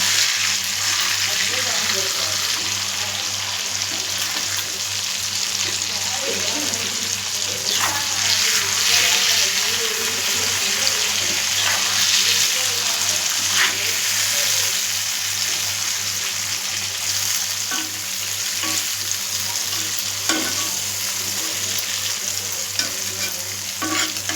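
Fish frying in hot oil for a fish biryani, a steady loud bubbling sizzle that runs the whole time with occasional crackles and pops, close by and with no talk.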